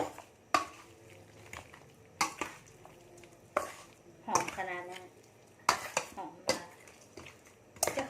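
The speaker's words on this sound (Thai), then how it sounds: "จากนั้นเขาก็จะมาคนให้มันเข้ากันเนาะ" A spoon stirs a seasoning mixture for Thai steamed chicken in a bowl, making scattered clinks and scrapes against the dish in irregular bursts, with faint voices and kitchen clatter in between.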